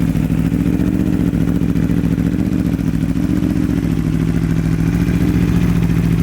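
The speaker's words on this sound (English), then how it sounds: "The bike's been idling for a little bit." An Aprilia RSV4 V4 motorcycle with a Spark titanium full exhaust idles steadily close by, a low, even rumble with a fast rhythmic pulse that holds throughout.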